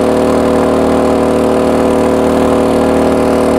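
A generator engine drones loudly and steadily up close, with a constant hum that never changes pitch.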